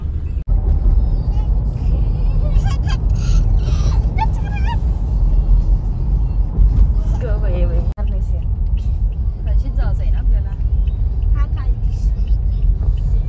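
A car interior carries a steady low engine rumble and road noise while driving to a mall, loud and constant throughout, with people talking over it.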